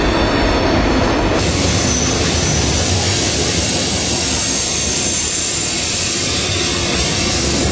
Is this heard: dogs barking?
no